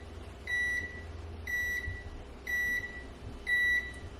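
A Panasonic SD-ZX2522 bread maker signals that it has finished with four evenly spaced, high, clear electronic beeps about a second apart, heard over a low room hum.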